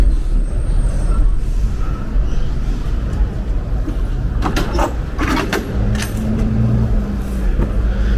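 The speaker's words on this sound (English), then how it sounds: "A lot of traffic." Busy city traffic on Flatbush Avenue in Brooklyn, a dense, loud rumble of passing cars and buses with hissing air brakes and clattering bursts midway, ending with a brief tonal squeal.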